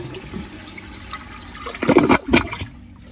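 An American Standard Cadet space saver toilet flushes close by, a short surging rush of water that peaks and then drains away, with no one talking.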